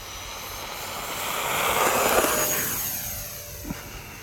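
A radio-controlled airplane climbing after takeoff, its high engine whine swelling louder as it passes nearby, then easing slightly; no voices.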